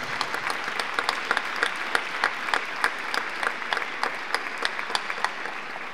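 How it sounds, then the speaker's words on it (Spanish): Loud audience applause at a provincial education congress held by a teachers' union, a steady dense wall of clapping with sharp individual claps standing out throughout, no voices over it. "un reconocimiento y un aplauso fuerte para todos y para todas"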